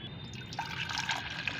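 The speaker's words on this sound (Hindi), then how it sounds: "ये अच्छी तरह से पानी ठंडा हो गया है, इसको हमें छान लेना है।" Cooled, boiled tea-leaf fertilizer water being strained for plants, a steady soft trickle and dribble of liquid running through a strainer, close and continuous with no talking.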